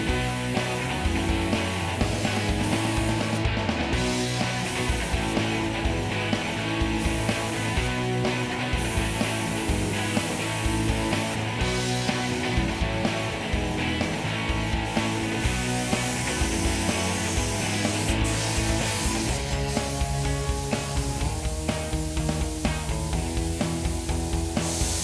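SATA Minijet spray gun applying primer to a car fender, a steady loud hiss holding without break under a constant background, no speech.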